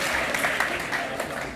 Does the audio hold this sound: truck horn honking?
no